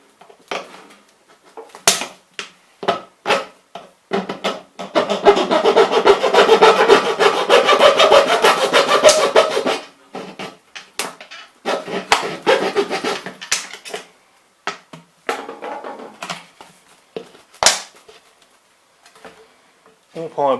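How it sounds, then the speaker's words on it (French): A hacksaw rasps back and forth through the neck of a plastic bottle in a sustained burst of strokes, with scattered knocks and handling noises before and after. "le goulot, on prend la scie à métaux"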